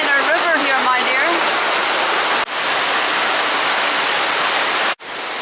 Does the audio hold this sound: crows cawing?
no